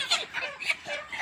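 Broiler chickens being loaded before dawn, a few close, quick clucks and squawks in a brief burst, with no voices.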